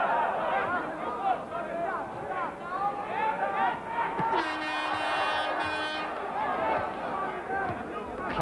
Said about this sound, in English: Klaxons among the crowd